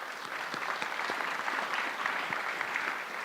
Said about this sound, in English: Perhaps a quick round of applause there.